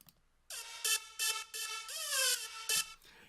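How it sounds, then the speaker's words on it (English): A bleepy synth lead played in Ableton, a run of short bright tonal notes in an uneven rhythm with one longer gliding note near the end, clear and close with nothing underneath. "If I was introducing another lead sound, like another bleepy sound like this one"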